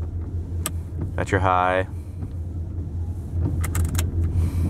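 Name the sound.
truck engine and exhaust while driving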